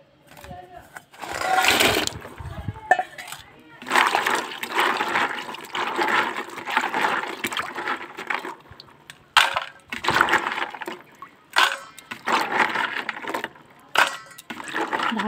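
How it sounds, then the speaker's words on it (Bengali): Dried jujube fruits being rinsed by hand in clean water, with splashing, sloshing and rubbing sounds in irregular bursts, close and fairly loud. "এবার আমি পরিষ্কার জল দিয়ে কুলগুলো ভালো করে ধুয়ে নেব।"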